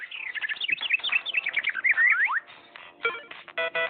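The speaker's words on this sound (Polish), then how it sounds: "Włączę odgłosy lasu, żeby szybciej zasnąć." Birds in a video-game forest ambience give quick bright chirps and sweeping whistled notes in rapid bursts, clear and close, with no voices.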